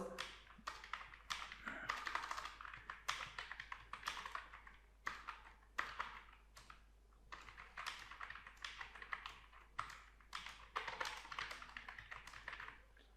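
Fingers type on a computer keyboard, a quick close patter of light key taps in bursts with short pauses between, steady throughout and alone without talk.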